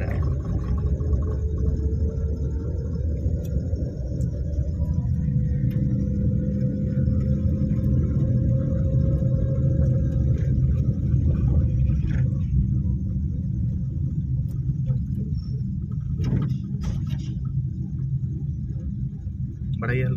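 Car on a driving lesson, a steady low engine rumble with a slowly rising tone as it gathers speed, an instructor's voice speaking over it.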